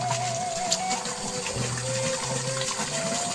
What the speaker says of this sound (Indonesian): Tuh, airnya gede banget.